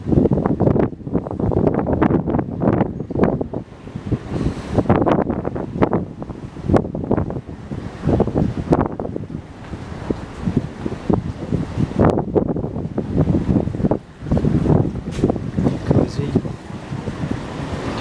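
Strong wind buffets the microphone on the open deck of the NCL Jade cruise ship, a loud continuous roar with gusty surges and sea wash beneath, no voices.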